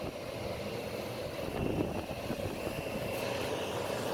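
A Coolbot air conditioner blows with its compressor off, giving a steady, even rushing whoosh of fan air with no distinct mechanical hum on top.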